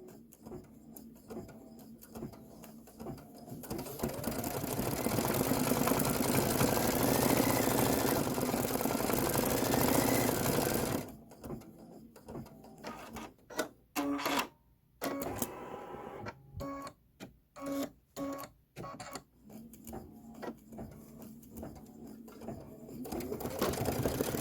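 A sewing machine stitches an inner flower on a candy corn quilt block, running in a steady whir for several seconds, then in short stop-start bursts with pauses, close and clear without talk.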